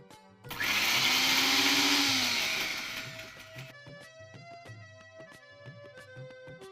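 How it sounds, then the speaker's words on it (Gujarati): A mixer grinder whirs loudly as it grinds green chutney with a little added water, a steady high-speed roar lasting about three seconds before cutting off, followed by quieter kitchen music. "હા, આ ગ્રીન ચટણી છે, એને મિક્સરમાં ગ્રાઇન્ડ કરી દઈશું"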